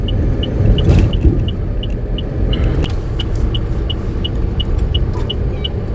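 A truck or car cruising on the road from Mumbai toward Kasara Ghat, with a loud, steady engine and road rumble inside the cabin and a regular high ticking, like an indicator, running throughout.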